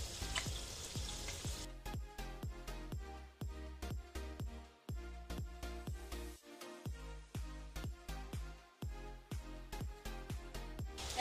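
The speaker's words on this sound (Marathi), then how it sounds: "कांदा लवकर भाजला जाईल।" Onion fries in a pan for a large batch of masale bhaat, giving a steady sizzle full of dense crackles and pops close up. No speech is heard over the cooking.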